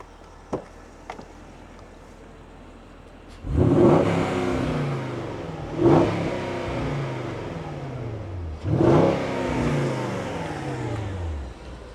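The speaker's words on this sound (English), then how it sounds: "I'll give you guys a couple revs." A Porsche Cayenne 958 engine revs three times in a row. Each rev rises and falls smoothly, and the engine idles low between them, with no talk.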